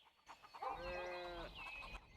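Farm animals calling from pastures in the city-building game Cities Skylines, a run of drawn-out, wavering bleat-like cries that sound fairly near and loud, with no talking over them.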